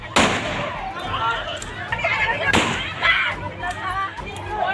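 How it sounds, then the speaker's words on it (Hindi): Gunfire from a daytime shooting attack in Morena, loud sharp reports with two prominent blasts and scattered smaller pops, heard over crowd noise and shouting. "फिर तड़ातड़ गोलियां बरसाई गई।"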